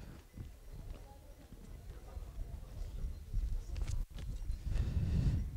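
Racehorses trot away at the start of a long trotting race, with a patter of hoofbeats building from faint to louder beneath a commentator's voice.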